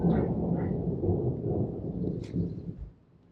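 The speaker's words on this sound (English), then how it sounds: "that is thunder." Low rolling thunder from an approaching thunderstorm rumbles continuously for about three seconds, then fades away, heard outdoors on a street with no talk.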